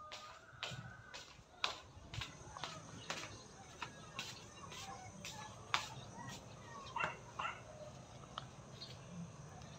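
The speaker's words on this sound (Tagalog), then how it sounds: "ayan yung mga aso" Dogs at a home in the Philippines yip and bark in short, fairly faint bursts, waiting to be fed, with scattered clicks and light background noise.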